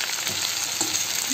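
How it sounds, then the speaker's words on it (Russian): Steady, loud sizzling of onions frying in a pan already used to fry fish, a continuous crackling hiss with no voices. "В этой же сковороде я обжариваю кучу лука."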